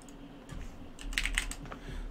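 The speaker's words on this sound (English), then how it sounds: "just type a name, it doesn't matter what you type" Quiet typing on a computer keyboard while entering a name during a Windows 98 Second Edition install, a short run of light key clicks with no voices.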